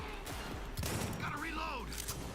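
Shotgun blasts in a video game: a couple of sharp, booming bursts with game noise, and a voice speaking underneath.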